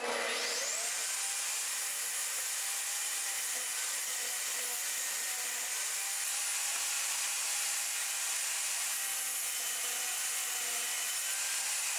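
A table saw runs steadily while cutting thin 1/8-inch wood strips against the fence, a continuous high whine and rasp that holds evenly throughout, fairly close and with no talking.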